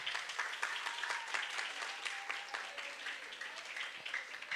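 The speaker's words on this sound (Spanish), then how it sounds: "Un aplauso para él, por favor." Audience at a school competition gives a contestant steady applause, many hands clapping at a fairly quiet, distant level without any break.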